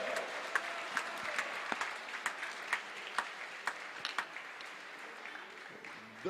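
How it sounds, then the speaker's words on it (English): Applause for the winner of a semi-final squash match at the Under-23 World Squash Championships. A dense, steady ovation from the spectators with sharper individual claps popping out, sustained for several seconds at moderate level. "Can we have a big round of applause again for the winner?"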